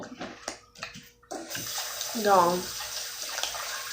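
Water runs from a tap into a sink or tub indoors, a steady hiss starting partway through and continuing to the end, with someone talking over it before it begins.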